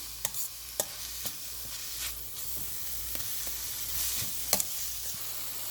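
Salted cauliflower being stirred and tossed in a pan, with a soft continuous sizzle and a series of sharp, irregular clacks of the utensil against the pan, fairly close.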